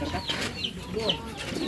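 A chicken clucks repeatedly in short, close squawks against a background of voices and yard noise, with several sharp calls spread across the moment.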